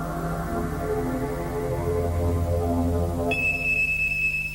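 A high, steady smoke alarm tone cuts in partway through and holds, sounding over a dense, droning musical bed.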